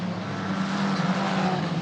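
Formula 4 race car at Mugello running off into the gravel at the exit of Arrabbiata 1, a steady engine drone held at an even level for under two seconds with a broad gritty wash over it.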